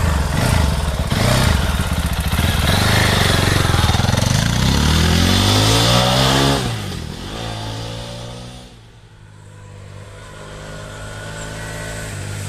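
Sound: Fantic Caballero Rally 500 motorcycle engine riding

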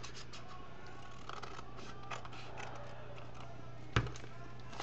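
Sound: cutting a small piece off a paper envelope

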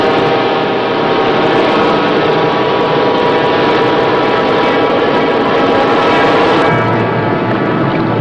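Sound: submarine engines running under overload

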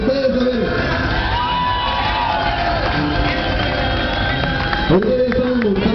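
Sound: festival crowd cheering and applauding

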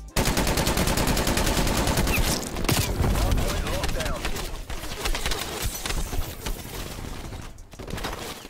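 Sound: gunfire in Call of Duty Cold War video game

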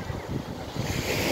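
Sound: sea waves and breeze at Platja Nord beach, Gandía

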